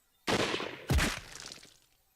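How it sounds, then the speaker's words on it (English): Two sharp gunshot cracks ring out in the Hakuoki: Kyoto Winds video game, fairly close and spaced under a second apart, the second louder and booming before a fading echoing tail. "I heard one last crack of the gunshot ringing in my ears"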